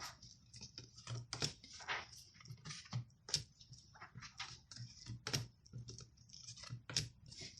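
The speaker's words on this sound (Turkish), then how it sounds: "Kartlarımı kardım. Kesiyorum." A deck of tarot cards being cut and handled, soft irregular taps and light shuffling flicks, close and quiet.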